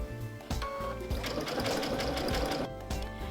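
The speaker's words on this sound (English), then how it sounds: "I'm just going to continue sewing up to the next edge of the koala's body" A sewing machine satin stitches around the edge of a raw-edge koala appliqué, running as a close, steady mechanical whir with rapid needle pulses and a brief slowdown partway through.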